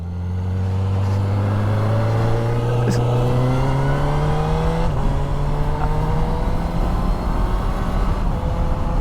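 Honda CB1000R Black Edition motorcycle engine pulling steadily in 4th gear at about 20 mph, a loud, continuous low drone whose pitch climbs slowly and evenly, with no talking.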